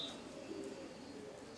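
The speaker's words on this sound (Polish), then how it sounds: "Są to gołębie nieprzeciętne, o bardzo dobrych wynikach lotowych." Adult male racing pigeons coo softly in a traditional loft, low murmuring calls under a constant faint background hum, with no clear talk.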